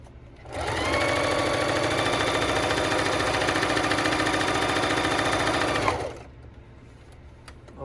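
A domestic sewing machine fitted with a walking foot stitches through leather with a leather needle, running steadily for about five seconds in a loud, fast, even mechanical whir, then stopping.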